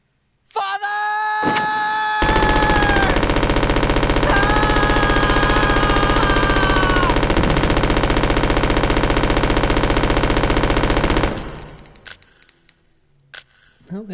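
Gunfire in the survival horror game Resident Evil Code: Veronica X, starting after a brief scream, then a loud, sustained rapid burst of automatic fire lasting about nine seconds before cutting off into quiet.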